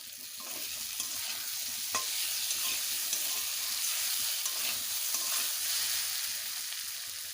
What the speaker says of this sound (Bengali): মশলা থেকে তেল ছেড়ে দিয়েছে এবার দিয়ে দেবো ভেজে রাখা আলুটা